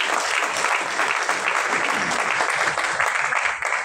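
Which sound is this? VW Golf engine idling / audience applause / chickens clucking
audience applause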